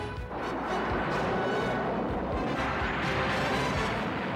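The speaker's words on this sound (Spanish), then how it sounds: "Asiento eyectable." A military aircraft ejection seat fires with a loud, sustained roaring blast that stays dense and forceful for several seconds after a brief quieter start; no one speaks over it.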